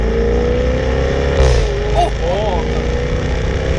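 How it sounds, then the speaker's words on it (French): A V8 car engine rumbles loudly and continuously, rising in a brief rev with a short crackle, heard from close up with a voice talking faintly over it. "le but de la vidéo c'est d'écouter le V8"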